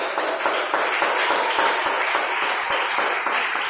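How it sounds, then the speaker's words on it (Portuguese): Church congregation clapping together in praise during a Portuguese-language worship service, a dense, steady wash of many hands close and loud throughout, with no speech over it. "Aplauda o Senhor com alegria."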